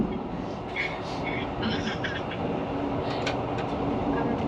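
Overnight sleeper class train running from Bangkok to Chiang Mai, a steady loud rumble and rattle heard from inside the carriage, with faint clicks and a continuous background din.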